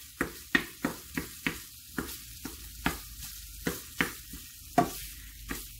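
Sausage frying in a pan while being broken apart, with a steady sizzle punctuated by a dozen or so sharp scraping strikes of a utensil at a loose, uneven rhythm, close and fairly quiet, no talk.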